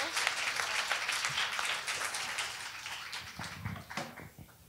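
An arts showcase audience gives a round of applause, many hands clapping briskly and close, tapering off unevenly toward the end.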